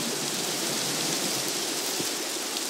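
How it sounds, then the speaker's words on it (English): Steady video game rain pours down, a dense, even hiss of drops with no pauses and no voices. "Look, it's now raining."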